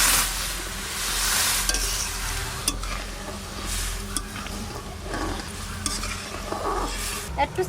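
Dal being tempered in hot mustard oil with dry chilli, bay leaf and cumin makes a loud, continuous sizzle, with occasional stirring scrapes and faint clicks of a spoon against the pan, and no talk.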